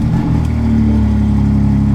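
A BMW G80 M3 engine runs on a hot day, a loud, steady low-pitched idle rumble close by with a brief rise at the start, no talking.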